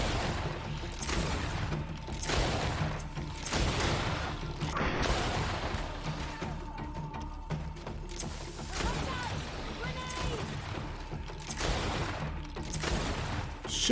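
Rapid gunfire in the video game GreedFall, a steady barrage of repeated shots and impacts running throughout at a fairly loud level, with a player's voice talking over it.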